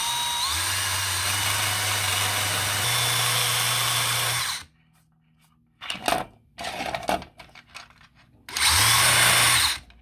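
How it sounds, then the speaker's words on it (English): A rotary tool grinds at a Game Gear cartridge connector post in two loud, steady high-pitched whining runs, separated by quieter scraping and clicking, close up. "let's grind off the cartridge connector post so that it can be released from the mainboard"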